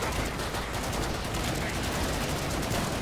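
Rapid continuous gunfire in the video game Killing Floor 2 while shooting Christmas cookies, dense loud bursts with no gaps across the whole stretch.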